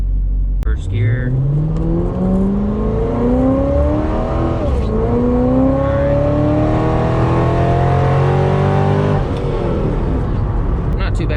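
A supercharged 700 hp Corvette pulls hard in first gear, its loud engine note climbing steadily, with a brief dip at a shift before it rises again and drops off near the end.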